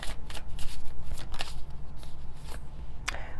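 Tarot cards riffle and slide in a steady run of quick, crisp flutters, close by and moderately loud, with no talking.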